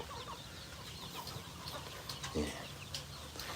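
Over a hundred free-range village chickens in a farm coop cluck steadily in the background, with scattered bird calls and one louder sharp squawk partway through.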